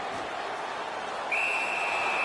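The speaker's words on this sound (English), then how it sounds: "And the referee's whistle has stopped play" A sharp, steady referee's whistle in an NHL 19 hockey video game cuts in partway through and holds loud and sustained over a low arena crowd murmur.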